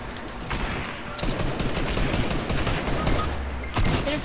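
Gunfire in the video game Fortnite during a squad fight, with dense rapid bursts of shots and loud sharp reports crowding together almost continuously, with no talk over them.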